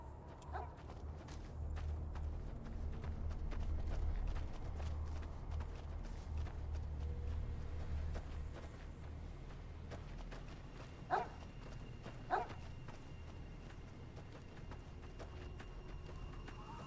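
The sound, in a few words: dog running in Fallout New Vegas video game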